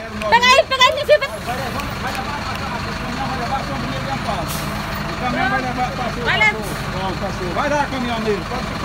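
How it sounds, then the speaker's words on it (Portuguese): A truck pulls away along a narrow street, its engine rumbling steadily with a hiss like an air brake, while people talk loudly over it nearby. "O caminhão vai levar, pode pisar. Vai lá, caminhoneiro, pode pisar."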